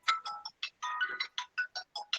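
Phone ringtone chiming in a repeating pattern of short bright tonal bursts, moderately quiet, heard alone during a stats class.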